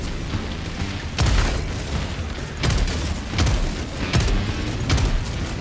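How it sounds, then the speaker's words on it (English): Grenades detonate in Helldivers 2, with four deep booming blasts spaced over a continuous rumbling battle din, each loud and close. "Fire the hole! Yeah, good old fashioned grenades probably do better."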